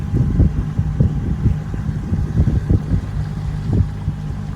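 A Tracker Pro 170 boat with a 40 hp Mercury outboard and a hydrofoil runs on the water, a loud, steady low engine drone with choppy wind and water buffeting close to the microphone.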